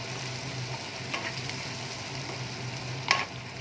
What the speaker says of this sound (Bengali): পেঁয়াজটা দিয়ে আমি খুব ভালো করে সাঁতলে নেব।